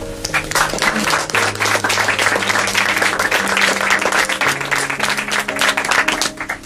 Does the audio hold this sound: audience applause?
yes